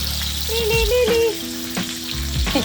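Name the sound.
pork chop sautéing in olive oil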